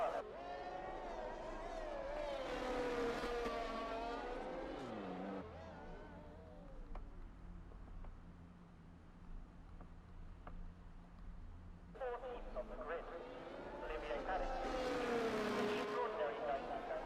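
A Formula 1 car screams through the Monaco tunnel in F1 23, its high-revving engine rising loud and close, fading during a quieter stretch with commentary, then roaring back near the end.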